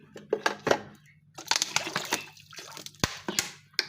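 Vinegar poured into a bowl of salted water for soaking chicken, giving short splashy trickles and drips in bursts, close and fairly clear, with a brief pause between pours.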